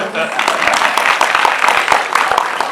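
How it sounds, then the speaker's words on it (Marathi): An audience claps during a talk on saint Tukaram and superstition, scattered individual claps under the ongoing voice of a speaker, fairly loud and uneven. "जरा टाळ्या वाजवा बाबा"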